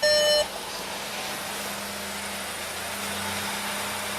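A stationary car idles with a steady low engine hum, preceded by a brief electronic chime at the start and another beep at the very end.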